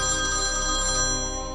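A phone rings steadily with a melodic electronic ringtone while calling the electricity lineman about a power cut, loud and close, holding a sustained tone that fades slightly at the end.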